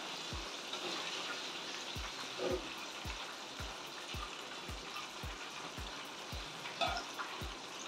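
Chicken deep frying in hot oil, a soft continuous sizzle and crackle with a steady ticking pulse running underneath, quiet and close, with no one talking.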